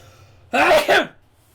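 A single short, explosive sneeze bursts out close by in two quick pulses, surrounded by quiet.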